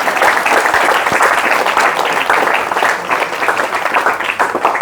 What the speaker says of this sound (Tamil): தயவு செஞ்சு நீங்களே ஒரு தடவை கை தட்டிடுங்க.